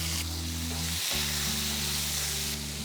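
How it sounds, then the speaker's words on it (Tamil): Garlic, shallots and tomatoes sauté in sesame oil for a wedding-style vatha kulambu, producing a loud, continuous sizzling hiss with a low steady hum beneath and one brief dip partway through. "ஒரு 15 பல்லு பூண்டு, சின்ன வெங்காயம் ஒரு 100 கிராம், தக்காளி 2, இது எல்லாத்தையும் போட்டு நல்லா வதக்கிடலாம்."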